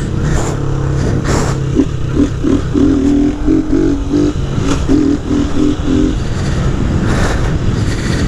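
A Start 160 motorcycle engine revs loudly and close up, with a continuous rough drone, a rising and falling pitch and short rhythmic throttle pulses midway, and no talk.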